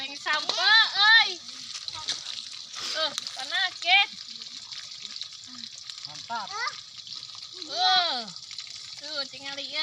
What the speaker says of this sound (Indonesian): Ini goreng dina katel.